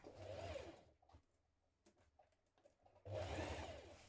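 Sewing a top's seam at close range, a machine runs in two brief rapid bursts, with a quiet gap between them holding faint clicks and fabric handling.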